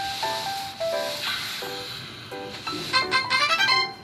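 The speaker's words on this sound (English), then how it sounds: "Let's drag the steamer onto the garment and run it downwards." Garment steamer hissing on clothing in a doll fashion sewing game, a series of short bursts and tonal chimes, with a quick run of repeated pulses toward the end.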